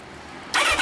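Kawasaki ZZR1100 D-type (Ninja ZX-11) motorcycle fitted with an SP Tadao muffler fires up after a quiet lead-in, giving a sudden loud close-range burst of engine sound at the very end.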